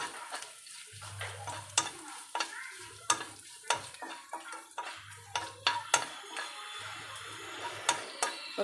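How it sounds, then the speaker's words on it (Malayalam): Onions fry in a pan with mustard seeds, curry leaves and chillies for a Kerala tomato curry. A soft, steady sizzle runs under sharp clinks and scrapes from a spoon against the pan, close by, with no voices. "കടുക് കൂട്ടി കരിയേപ്പില മൂത്തു മുളക് മൂത്തു ഉള്ളി ദേ മൂത്ത് വന്നുകൊണ്ടിരിക്കുന്നു"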